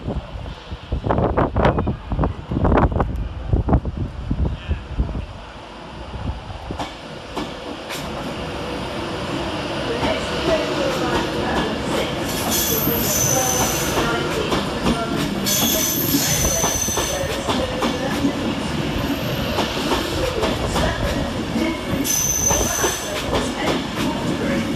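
An Avanti West Coast Class 390 electric train pulling out of Crewe station on a London Euston to Manchester Piccadilly service, loud and close, with clattering wheels at first settling into a steady rumble and high wheel squeal.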